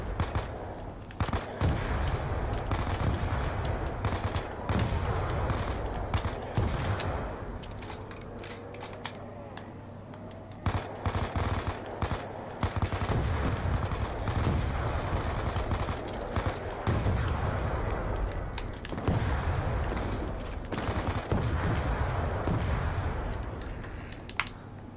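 MP5 submachine gun in a zombie video game firing in repeated short bursts, clusters of sharp shots recurring across a noisy, busy background with little pause.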